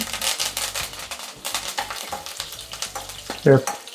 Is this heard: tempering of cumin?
yes